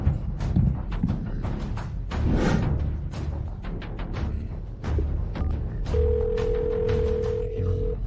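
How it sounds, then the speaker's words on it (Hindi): A telephone goes unanswered, its steady electronic ring tone sounding alone for about two seconds near the end, after a stretch of thumps and movement noise. "यह ड्रैगन मार्शल भी फोन नहीं उठा रहा"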